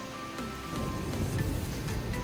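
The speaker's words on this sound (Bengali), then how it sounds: "ওয়েদারটা দেখা একবার, বৃষ্টি পড়ছে।" Steady rain falls outside a village house, a soft continuous hiss of drops with no talking and no distinct individual impacts.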